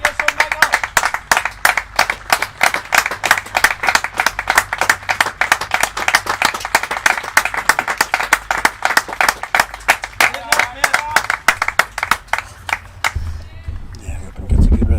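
Spectators at a club cricket league match applauding a batsman, with rapid distinct claps from a small nearby group, steady and fairly loud for most of the stretch before thinning out near the end.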